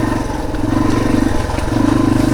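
A dirt bike with a failed front brake, leaving only the back brake, is ridden on a mountain trail, its engine a loud, steady, pulsing mid-pitched drone with some clatter.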